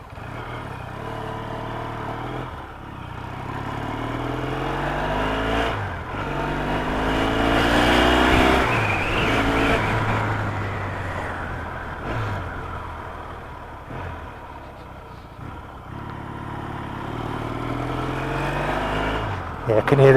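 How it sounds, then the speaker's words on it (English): A Yamaha XS650 motorcycle engine runs with air being drawn through the air filters, its revs rising and falling steadily at close range while people talk nearby. "I can hear the air sucking through the air filters"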